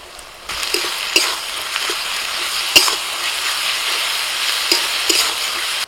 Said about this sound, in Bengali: আদা রসুনটা একটু ভাজা হয়ে গেছে